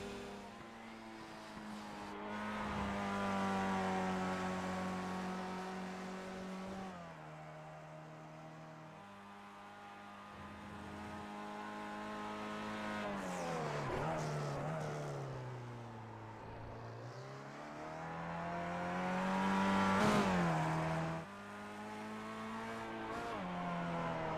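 Skip Barber open-wheel race car lapping Laguna Seca in the iRacing simulator, its engine rising and falling steadily through gear changes for about 24 seconds, loud and continuous with no talk.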